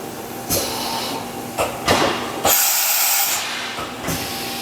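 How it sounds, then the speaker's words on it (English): Compressed-air blow hissing in loud bursts during a simulated tool change on a 2012 Quaser MV154 vertical machining center, several sharp blasts and a sustained rush over steady machine hum, heard up close. "It has the air blow, you heard."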